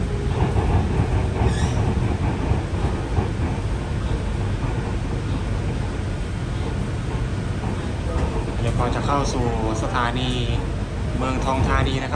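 A video game monorail train on the Bangkok Pink Line extension to Muang Thong Thani rumbles steadily along the rails with a constant low roar, while announcements and voices can be heard over it toward the end.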